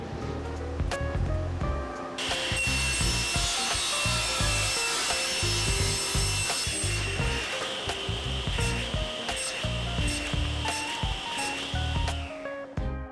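Steady, rhythmic rasping of sandpaper on walnut wood trays, with back-and-forth strokes continuing throughout and a faint higher whine joining in partway.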